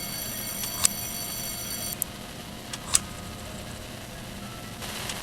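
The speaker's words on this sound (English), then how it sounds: "I didn't realize there was an alarm mechanic." An alarm rings in the horror game Freddy and the Gang 2, heard as a steady high electronic tone for about two seconds, broken by a few sharp clicks, over a constant low background hum.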